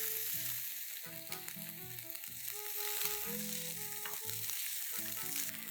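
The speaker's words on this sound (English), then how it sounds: "Saute that in really well." Chicken sautés in a pan for chicken mac and cheese, a constant crackling sizzle with scattered spatula taps and stirring clatter, close and moderately loud throughout.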